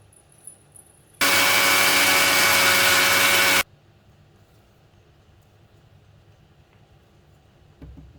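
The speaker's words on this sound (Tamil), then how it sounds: "நொய் அரிசியை வந்து திருப்பி நம்ம அரைக்க போகிறோம்" A kitchen grinder runs on broken rice in one loud, steady whirring burst of about two and a half seconds, then cuts off to quiet room tone.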